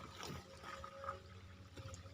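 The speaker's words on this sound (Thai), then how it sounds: "นี่ช่องทางน้ำไหลมาจากตรงนี้ครับ น้ำซับนะครับ" Spring water trickles through a small channel into a pond on a farm, a faint, close, bubbling dribble with soft irregular splashes and no voices.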